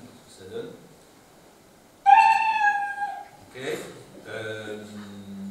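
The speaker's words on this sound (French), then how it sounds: "il y a un son miaou" A synthesized cat meow sound effect played back by a computer program in a conference room, a few bright harmonic meows in quick succession, with people talking around it.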